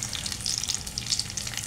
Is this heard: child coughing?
no